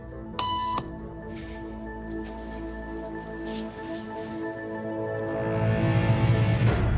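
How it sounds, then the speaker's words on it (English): A single steady electronic beep tone sounds briefly near the start, then a low droning hum continues underneath, growing slightly louder toward the end. "After just 3 beeps,"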